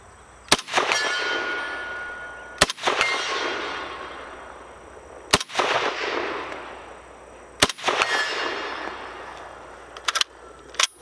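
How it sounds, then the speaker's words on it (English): Five loud, sharp rifle shots from a Norinco SKS, a Chinese copy of the Soviet rifle, each followed by a bright metallic ring from a steel target downrange, spaced a couple of seconds apart outdoors. "That was 5 rounds offhand. I got 4 out of the 5 on the steel target up there."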